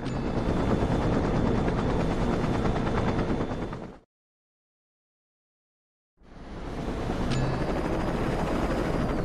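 Helicopter rotor and engine roar from the Saints Row 2 video game, loud and steady, cutting out completely for about two seconds before resuming at the same level.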